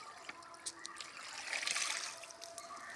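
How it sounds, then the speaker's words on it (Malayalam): Water trickling and dribbling while clothes are soaked by hand, a soft continuous wet patter with a swelling splashy stretch in the middle and small drips around it, close and fairly quiet. "തുണി നനയ്ക്കുകയാണ്"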